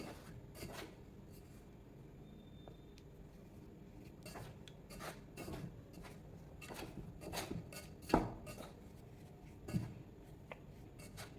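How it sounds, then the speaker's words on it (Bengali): Flour dough being kneaded by hand without water, with oil and ghee worked in, giving faint repeated rubbing and pressing sounds broken by soft knocks and occasional louder thumps. "এই যে এবার একটু ভালো করে এরকম হাতের সাহায্যে একটু ভালো করে মেখে নিতে হবে।"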